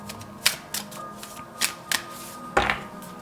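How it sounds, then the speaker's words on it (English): Playing cards being handled as a single card is pulled from a tarot-style deck, heard as several short, crisp snaps and flicks spaced across a few seconds, fairly close and with no speech over them. "I will pull just one card, okay?"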